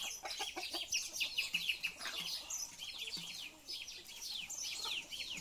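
Purebred New Hampshire hens clucking in a pen, a dense, steady chorus of clucks and chirps close by, with no talk over them.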